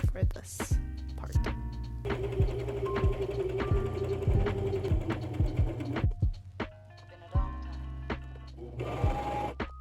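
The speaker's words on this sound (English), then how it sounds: "I used a straight stitch for this part." Sewing machine running a straight stitch on upcycled Levi jeans: short rapid mechanical chattering runs with pauses between, plus clicks and knocks from handling the denim, close up, and a voice speaks at points.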